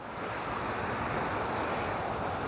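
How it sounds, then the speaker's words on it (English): Tidal sea water rushing fast through a channel on the Anglesey inland sea near Holyhead, a steady loud broadband roar of flowing surf and water with wind buffeting the microphone throughout. "the water here that's flooding in, but it's absolutely screaming through here now"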